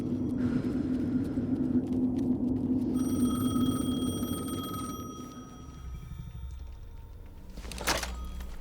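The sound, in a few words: telephone ringing in video game Alan Wake 2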